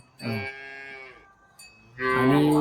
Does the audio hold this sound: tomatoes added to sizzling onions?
no